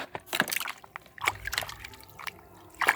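Water is poured onto seed-starting soil mixed with black cocopeat, making short, close trickles and sloshing splashes in a few bursts over a few seconds.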